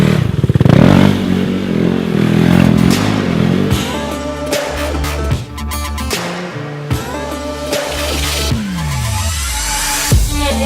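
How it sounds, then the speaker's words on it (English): KTM RC 390 cup motorcycle spinning inside a workshop, loud engine revving in repeated bursts, rising and falling pitch with a tire scrub and clattering, close and dominant throughout. "I took your RC a little bit to make some spins here in the workshop"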